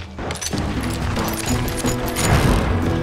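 Gunfire in the western shooter Call of Juarez Gunslinger, a loud, dense and continuous volley of shots with crashing impacts throughout a Pat Garrett posse shootout.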